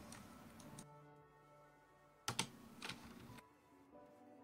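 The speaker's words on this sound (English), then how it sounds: "And I start typing in the rotation values." Typing on a computer keyboard, with faint scattered key clicks and a couple of louder clacking bursts in a quiet room.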